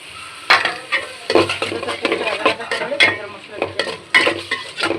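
Shrimp fries in a pan, with a sizzle under repeated sharp, close spatula scrapes and clatters as it is stirred in uneven bursts.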